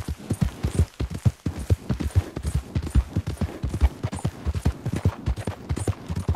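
Rapid hooves drum in a steady galloping rhythm, close and fairly loud, with no voices over it, from a horse in Red Dead Redemption 2.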